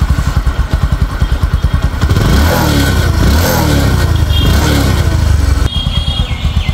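A second-hand Bajaj Discover 125 cc motorcycle engine runs close up, a steady idle thump that rises into a louder rev before settling back to idle.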